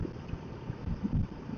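Cold wind buffeting a rider on a Duke 250 motorcycle heading toward the Kolli hills, a steady close rumble of wind noise with brief gusty bumps and no talk.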